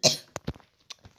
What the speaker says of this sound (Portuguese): A tossir de novo, hein?